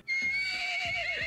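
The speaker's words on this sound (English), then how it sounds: "It just looks like a horse." A Pegasus mod creature in the video game ARK, looking like a horse, lets out a loud, close neigh and whinny that holds for over a second, alone with no talk.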